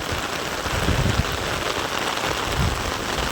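Heavy rain pours steadily in Sangrur, Punjab, a dense continuous hiss of drops striking surfaces, with low rumbling swells rising around the first and third seconds and no voices.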